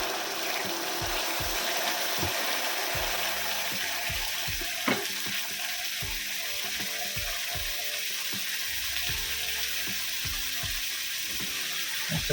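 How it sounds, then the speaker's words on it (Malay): Boiling hot water is poured a little at a time into batter for an ant nest cake, giving a steady close hiss and splash with faint clicks and taps. Nobody speaks. "Kita boleh masukkan air panasnya sedikit demi sedikit."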